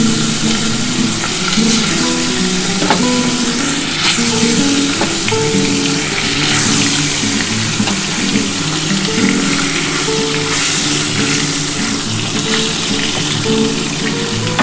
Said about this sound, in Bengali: এবার আমি মাছটা ভেজে নিচ্ছি।